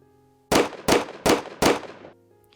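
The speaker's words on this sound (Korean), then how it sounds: "어디선가 귀를 찢는 총성이 들렸다." Four loud, sharp gunshots fired in an even rhythm, a sound effect within an audiobook, each report with a brief decaying tail, over quiet background music.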